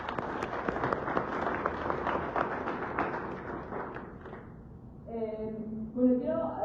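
Sustained applause from a book-launch audience fills the first few seconds, then dies down as a voice begins speaking.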